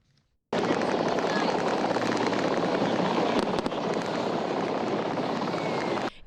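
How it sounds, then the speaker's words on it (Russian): A military helicopter flies close during a staged military demonstration, giving a loud, steady roar of rotor and engine noise that starts abruptly and holds for several seconds. "Видеть вертолет, который выполняет военную операцию, так близко удается не каждому."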